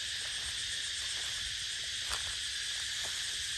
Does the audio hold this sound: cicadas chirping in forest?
yes